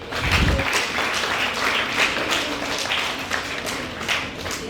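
An audience claps loudly and steadily at a 2024 NCC cadet award ceremony, dense applause sustained throughout with no speech over it.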